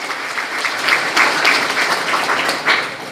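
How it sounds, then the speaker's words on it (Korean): Applause from an audience at a formal civic founding ceremony in Korea, a brisk, continuous patter of many hands clapping, moderately loud and close, lasting a few seconds. "큰 박수 한번 보내주십시오."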